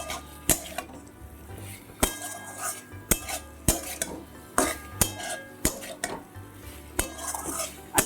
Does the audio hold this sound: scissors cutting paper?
no